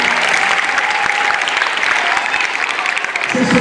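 Sustained audience applause at a school boxing demonstration after the bout ends, a steady dense wash of clapping from a crowd throughout.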